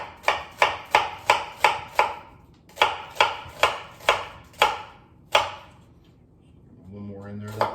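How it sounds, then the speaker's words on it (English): Knife slicing through a red onion on a cutting board: about a dozen sharp, evenly paced chops in two quick runs, close and clear, followed by a brief voice at the end. "This onion we are going to slice this way."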